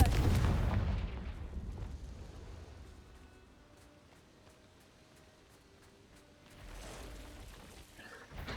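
A Confringo fire spell explodes in the Hogwarts Legacy video game, opening with a loud low boom that decays into a rumbling tail, followed by a quieter stretch and a second swell of blast noise near the end.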